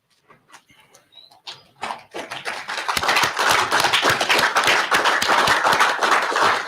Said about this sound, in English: for you to give them a big rousing round of applause